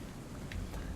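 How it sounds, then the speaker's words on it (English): Rain falls in the video game Hellblade: Senua's Sacrifice, a soft, continuous hiss of drops with a low rumbling wash underneath, brief and without talk. "Oh, it's raining."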